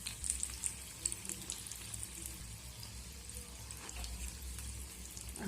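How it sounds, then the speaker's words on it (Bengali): Potato chops (alur chop) fry in oil over medium heat, giving a soft, steady sizzle and bubbling close up with faint clinks. "তেলের মধ্যে আমি 3টে চপ ভাজার জন্য দিয়ে দিয়েছি"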